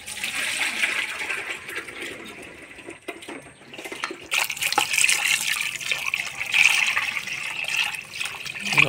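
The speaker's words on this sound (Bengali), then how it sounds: "এই জলটা আমি ফেলাই দেব।" Milky washing water poured off chhana (cottage cheese), a continuous close splashing pour, rising fuller in the second half.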